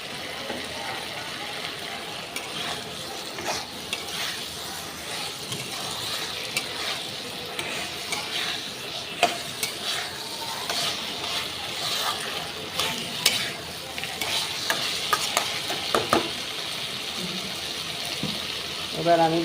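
Eggplant pieces fry in a pan, with a steady soft sizzle and scraping, clinking stirs close by, while a voice talks over it now and then.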